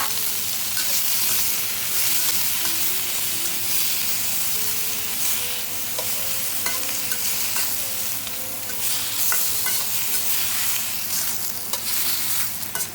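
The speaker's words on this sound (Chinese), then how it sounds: "加入西红柿翻炒30秒" Tomatoes stir-fried in a wok give a loud, steady sizzle, with scraping and stirring clatter throughout and no voices.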